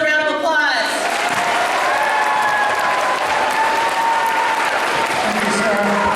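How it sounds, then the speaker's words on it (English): Applause from a crowd at a middle school award ceremony, honoring a girls' volleyball team: dense, steady clapping that fills the room, with voices speaking over it at the start and end. "Give these girls a round of applause."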